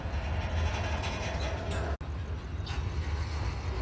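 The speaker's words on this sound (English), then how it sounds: "The train's moving again." A train pulls away off a switch at night, a steady low rumble and rolling wheel noise that stays close and continuous, with a brief dropout midway.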